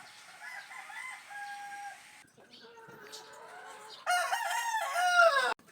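Roosters and cockerels crow on a farm, first a fainter distant crow, then a loud close crow near the end, with clucking fowl and people talking in the background.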